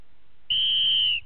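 One sharp, steady whistle blast signals the start of a team game, lasting just under a second and ending abruptly, loud and close.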